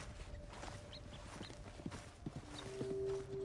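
Horse hooves clip-clop faintly in Red Dead Redemption 2, a soft irregular run of steps under quiet game ambience, with a brief tone near the end.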